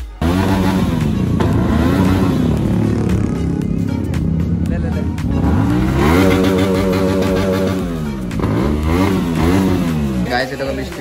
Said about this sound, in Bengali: এবার আমাদের চয়ন ভাই বাইকের থ্রটেল দিবে বলে দাঁড়িয়ে আছে।